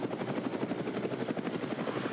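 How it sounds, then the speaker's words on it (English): Helicopter rotor blades over the Nürburgring, a steady rhythmic chopping thump repeating rapidly and evenly at moderate loudness throughout, with no talk. "Seeing it from the Rover Racing helicopter, you can hear the rotor blades in the background"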